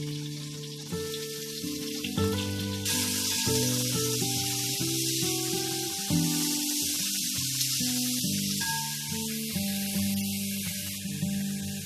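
Onions sizzle as they hit hot oil in a pan with ginger and garlic while cooking tapioca (kappa) biriyani. A steady frying hiss grows louder partway through, under background music.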